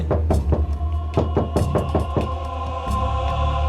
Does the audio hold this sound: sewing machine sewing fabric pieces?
no